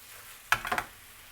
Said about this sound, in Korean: 살짝 볶아 주시면 됩니다